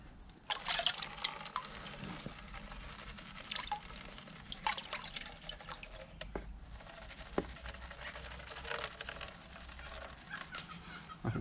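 Water sloshing and splashing in a plastic gold claw pan as it is repeatedly shaken and tilted, with irregular swishes and drips, close and moderately quiet.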